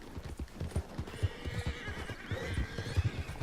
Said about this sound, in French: Oh, il y a des chevaux et tout.